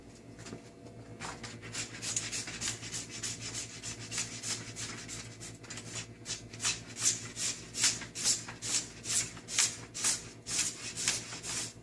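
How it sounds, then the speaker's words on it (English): A flat scraper scrapes glide wax off a cross-country ski in a steady series of short, rhythmic strokes, close and clear, growing more distinct and evenly spaced toward the end. "we're going to use a flat scraper on the ski"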